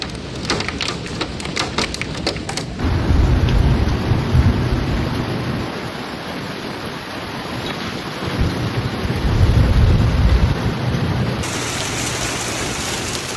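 Intense hailstorm in Denver, Colorado, with golf-ball-sized hail and heavy rain pounding surfaces, a dense roaring downpour broken by deep rolling thunder rumbles, loud and close throughout.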